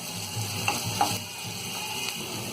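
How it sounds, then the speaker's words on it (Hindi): Onion, capsicum and spring onion frying in about a tablespoon of oil for white sauce pasta make a constant, even sizzle with a few light stirring knocks, close and steady, with no talking. "ये प्याज और शिमला मिर्च को हम फ्राई कर लेंगे।"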